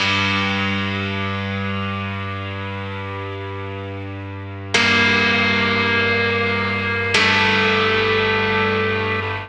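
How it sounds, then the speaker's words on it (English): Heavy, distorted piano chords struck hard three times, each ringing out in a long, buzzing, echoing sustain before the next strike. "all that distortion and how hard the piano is being hit"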